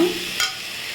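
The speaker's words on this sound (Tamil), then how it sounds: "வெங்காயம் தக்காளி நல்லா வதங்கிருச்சு பாருங்க" Onions and tomatoes sauté in a pan for beef pepper gravy: a brief sizzle with a sharp stirring scrape in the middle, close and alone.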